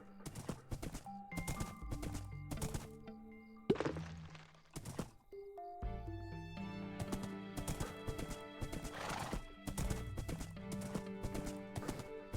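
Horse hooves clip-clopping in the farming video game Sunlit Valley, a steady rhythm of hollow thunks layered over bright tonal game music, with a short neigh-like burst midway.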